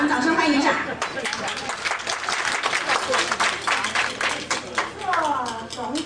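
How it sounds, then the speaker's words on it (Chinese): An audience at a 2007 Southern California alumni association anniversary gala applauds to welcome a guest, with dense, steady clapping filling the room throughout. "来，我们掌声欢迎一下"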